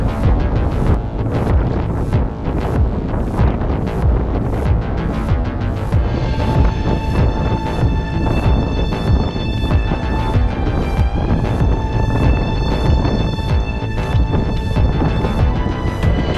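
Strong gusting wind buffeting the microphone on the Moncayo mountain trail, a loud, continuous roar with rapid pulsing flutter and no talk.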